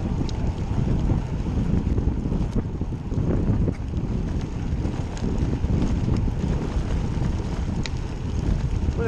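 Steady, loud wind buffeting the microphone while riding a bike into a headwind, a constant low roaring rush with no speech.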